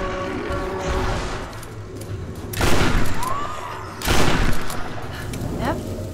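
Gunfire in the Tomb Raider video game during a fight with a guardian: two loud bursts of shots a second or so apart over a steady game background, with a voice talking.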